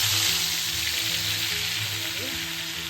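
Marinated chicken pieces for chicken biryani frying in hot oil, a steady, close, loud sizzle running alone throughout without a break.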